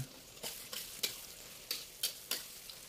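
A utensil stirs fried anchovies into rice for nasi langgi, giving about six short, crisp scraping clinks spaced unevenly over quiet background, close and fairly soft.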